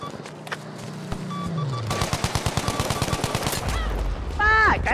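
Rapid bursts of automatic gunfire in a night match of the video game Battlefield 5, a steady run of sharp shots near and loud, with an explosion-like rumble and scattered effects around it.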